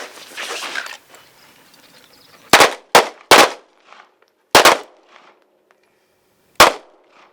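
Pistol shots ring out on an outdoor defensive pistol course. A few loud, sharp reports come in an uneven string, some in quick pairs, after faint background noise.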